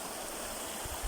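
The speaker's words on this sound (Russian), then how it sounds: "И я с Максом подняли плотину и делаем там водопад." Water pours over a small dam built to make a waterfall, giving a steady, even rushing hiss with a couple of faint low thumps near the end.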